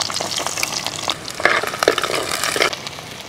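Shallots crackle and sizzle in hot coconut oil with popped mustard seeds, with dense popping and spitting, and brief louder bursts as they are stirred.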